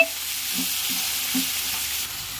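Large tomatoes sizzle steadily in a pan for a tomato dal, with a few soft scrapes of stirring breaking through the constant hiss, close and alone.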